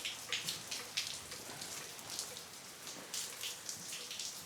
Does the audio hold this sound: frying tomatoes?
no